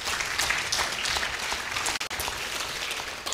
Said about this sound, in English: I think that also deserves a round of applause.